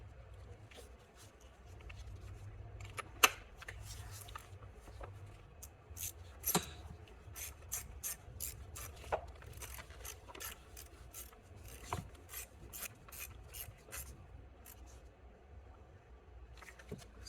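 A T25 Torx bolt being turned back in on a boost pressure sensor, faint repeated ratcheting clicks and tool ticks at an irregular rhythm, close up and alone in a quiet space.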